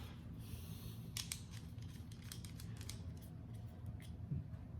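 An antenna is screwed into a dog training collar remote, making a few faint, light plastic clicks and scrapes in a short cluster against a quiet room hum.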